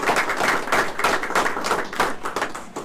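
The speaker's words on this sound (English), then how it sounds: "So a round of applause." Applause at a school board of education meeting, a dense run of hand claps from a room of people lasting about three seconds, steady and fairly loud without any talk.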